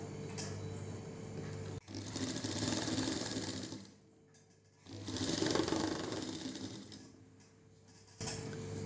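A sewing machine stitches a brassiere in a tailoring class, whirring in two sustained bursts separated by short pauses, then starting again, close but quiet.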